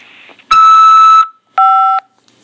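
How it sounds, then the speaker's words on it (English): A prison phone-call system plays its electronic tone: one long, loud, steady beep followed by a shorter beep at a lower pitch, clear with silence around them. "After the beep, press 5 to accept this call."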